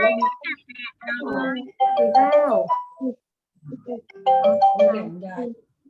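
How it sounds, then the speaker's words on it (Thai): A phone rings with an incoming call, a tonal ringtone melody repeating loudly alongside a voice during a maths lesson. "เดี๋ยวครูขอรับโทรศัพท์ตป๊งนึงนะครับ"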